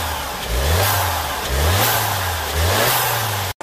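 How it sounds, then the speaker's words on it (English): A 2021 Skoda Octavia petrol engine is revved three times in a row, each rise in pitch swelling and easing back to a smooth, subdued idle, heard up close with no talking. "even if you give it a rev, it sounds really subdued and quite refined"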